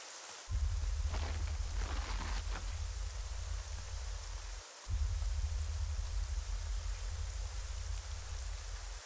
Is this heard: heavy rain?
yes